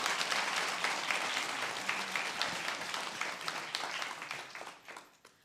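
A large audience claps steadily at a guide dog graduation ceremony, a dense, sustained round of applause that gradually tapers off toward the end.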